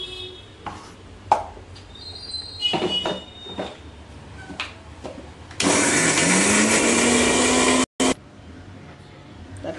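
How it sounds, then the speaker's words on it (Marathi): A mixer grinder grinds soaked moong dal into a thick paste, a loud, steady whirring roar running for about two and a half seconds, stopping briefly and then restarting. Clatter and handling sounds come before it. "हे आपण सर्व आपल्या मिक्सरमध्ये दळून घेणार आहोत."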